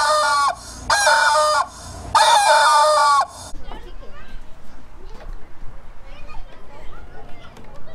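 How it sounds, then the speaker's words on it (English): Chickens at a farm pumpkin patch: a rooster crows loudly in three long bursts close by, followed by softer clucking and scattered voices of people and children in the background. "Chickens."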